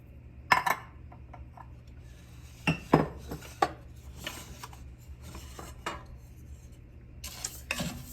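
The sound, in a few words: stirring rice in oil in a pan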